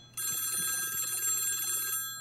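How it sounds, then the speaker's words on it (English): Close telephone bell ringing in one continuous bright burst of about two seconds, fairly loud, with a faint voice underneath. "Oh, the phone's ringing."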